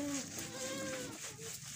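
Senduro and Jawa randu goats at a breeding farm call out in a few tonal bleats, one strong at the start and a long drawn cry after, against a busy background of other farm animals.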